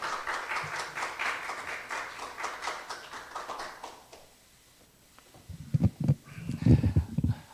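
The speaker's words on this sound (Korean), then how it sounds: "큰 박수로 맞이하셔 주시기 바라겠습니다" Policy seminar attendees at a Korea University research institute clap to welcome a speaker; the applause holds for about four seconds and fades out, then a few low, soft thumps follow nearby.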